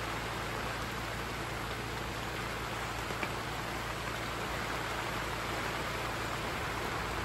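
Steady, dense rain hisses continuously with no pauses, a constant even wash of falling water.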